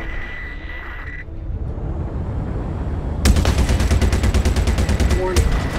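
Ballistic gatling guns on a Super Hornet fighter in the Star Citizen arena video game open up partway through as a loud, rapid, continuous burst over a steady engine hum.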